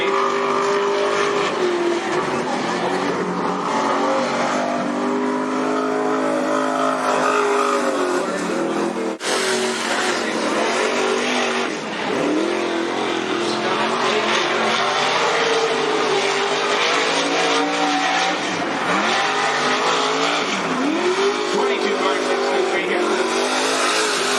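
Race cars roaring around the dirt oval at Cottage Grove Speedway, engines droning and rising as they pass, loud and continuous, with a track announcer's voice over the top.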